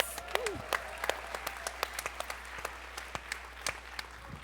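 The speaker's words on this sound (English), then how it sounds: "Can we give them a round of applause?" Audience applause in a hall, a sparse scatter of individual claps, faint and somewhat distant, with a voice briefly speaking over it.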